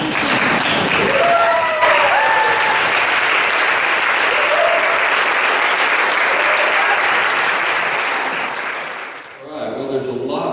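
An audience applauds steadily and loudly to welcome Troy and Amy to the stage at a leadership academy session, with a few cheers and whoops over the clapping before it fades and a voice begins near the end.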